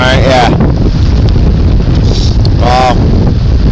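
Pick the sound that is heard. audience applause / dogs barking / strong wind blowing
strong wind blowing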